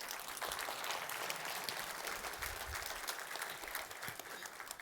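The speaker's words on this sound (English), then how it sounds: "Let's give her a round of applause" A seated audience breaks into steady, sustained applause after a talk, a dense wash of many hands clapping at moderate, fairly faint level for the full stretch with no voices on top.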